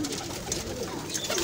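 Pigeons held in hand give soft, close cooing and breathy puffing in a short burst.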